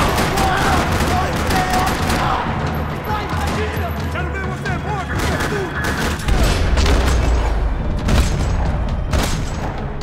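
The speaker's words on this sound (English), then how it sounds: "Another parking lot rattling with gunfire." Loud, dense bursts of gunfire and booming impacts crackle continuously in a parking lot shootout in the video game Max Payne 3, with voices mixed in beneath the shooting.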